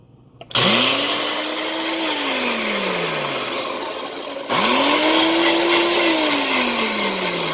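A blender whirs through spinach and coconut beverage for a pina colada protein smoothie, a loud close motor that surges up, holds, then winds down, starting again after a brief stop.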